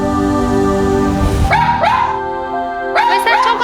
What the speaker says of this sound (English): Where's that dog on television?